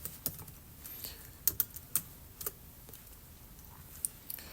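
Keys tapped on a computer keyboard while a code comment is written, forming a quiet, irregular run of light clicks with short pauses and no voice.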